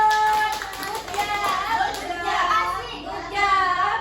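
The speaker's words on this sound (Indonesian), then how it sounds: "Tepuk tangan dulu." Schoolchildren in a classroom clap together while young voices chatter and call out over the patter of hands.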